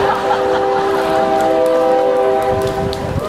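Train horn sounding from a passing train near a college commencement ceremony, a long steady multi-tone blast held throughout over rumbling rail noise.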